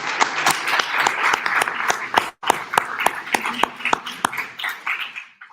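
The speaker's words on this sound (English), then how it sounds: "Let's give them another round of applause." Applause from the audience at a university mathematics competition awards ceremony: sharp, fairly close claps from a modest crowd, briefly cutting out, then picking up again before fading.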